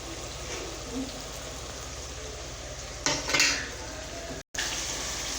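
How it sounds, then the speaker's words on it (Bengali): Sour yogurt stirred into a cooking pan over a very low gas flame: steady soft scraping and swishing throughout, with a brief louder clatter of utensil against pan partway through and a momentary cut-out near the end. "টক দইটা দিয়ে ভালো করে মিশিয়ে নেব।"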